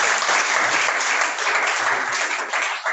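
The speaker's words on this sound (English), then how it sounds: "Can we clap again for the team?" Sustained audience applause at an African painting and ceramics awards ceremony, a dense, even wash of many hands clapping together for three seconds without a break.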